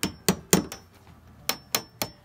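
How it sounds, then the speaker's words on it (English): A hammer tapping 16-penny nails set between decking boards as spacers, seven sharp metallic strikes in uneven groups, close and clear with no talk. "you can even tack them in a little bit if you don't want them to fall out"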